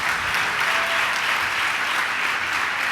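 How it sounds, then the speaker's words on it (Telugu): A church congregation claps steadily and loudly throughout, a thick continuous wash of many hands at a Christian service, with no pause or change in intensity. "చప్పట్లు కొడుతూ దేవునికి మహిమపరచు."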